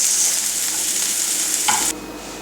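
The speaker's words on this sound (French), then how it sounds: "vous mélangez un peu et vous laissez cuire à petit feu le temps que les oignons blanchissent" Onions frying in a pan with a loud, steady sizzle, briefly stirred near the end before the hiss drops to a quieter frying sound.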